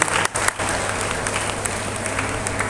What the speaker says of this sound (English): Please give the applause to great applause.